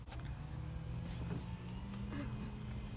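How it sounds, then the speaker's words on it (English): A new car's automatic trunk opens with a steady electric motor whirr and a low mechanical hum, close by, over about three seconds. "It's an automatic trunk."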